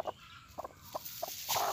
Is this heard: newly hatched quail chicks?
yes